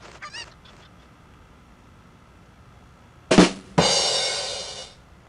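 A chicken in the Persona 3 Reload video game lets out two sudden, loud, harsh squawks in quick succession, the second drawn out and honking, after several seconds of near silence.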